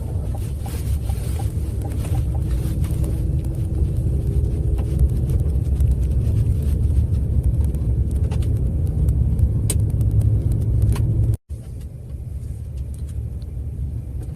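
A GMC Sierra pickup truck rolls along a gravel road, its steady loud low rumble of engine and tyres carrying through with faint crunching, then a brief dropout near the end before the drone resumes.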